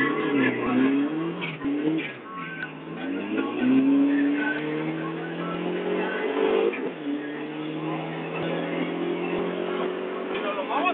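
A 2002 Trans Am launching in a race with its rear wheels spinning, engine and tires wailing in rising, strained tones while people talk over it throughout.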